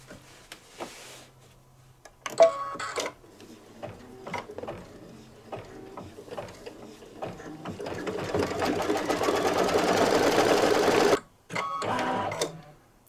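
An embroidery machine stitches a tack-down line on fabric for a towel topper. The rapid mechanical ticking comes in short bursts, then builds into a longer, louder run before stopping, with a brief final burst.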